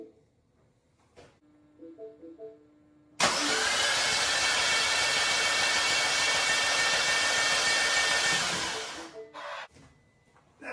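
A Mini Cooper Countryman ALL4 S (R60) engine, with the fuel pump fuse pulled, cranks over steadily for about six seconds after a few faint beeps and clicks, then stops abruptly, loud and close.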